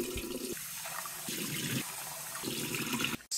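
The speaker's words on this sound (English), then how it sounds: "you must wash it until the water runs clear" Short grain sushi rice being rinsed in a bowl of water, soft swishing and sloshing in a few short bursts with quiet pauses between them, ending in a brief clatter.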